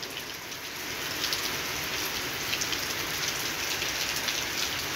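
Heavy rain in Dhaka, a dense steady hiss of rainfall drumming on surfaces, moderately close and continuous, slightly swelling after the first second, with no voices.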